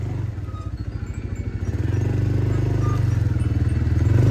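An ATV engine chugs with a rapid pulsing throb on a rough, dangerous trail, growing steadier and slightly louder as it moves along, close to the listener.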